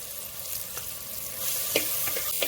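Spices for tempering a tamarind curry sizzle and crackle steadily in hot oil, with occasional louder pops and a stirring scrape, fairly quiet and close.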